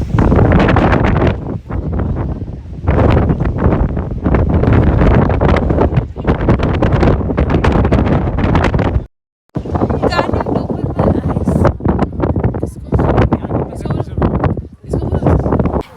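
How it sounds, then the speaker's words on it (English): Strong gusts of wind buffet the microphone in loud, roaring bursts almost throughout, dropping out briefly once, with a voice partly audible beneath, at a viewpoint in Turkey. "but also very windy"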